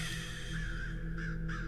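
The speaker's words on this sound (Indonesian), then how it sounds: "Lagi-lagi banyak burung gagak bertengger di sekolah kami." Crows perched around a school cawing, several harsh calls repeating at moderate distance over a steady low background hum.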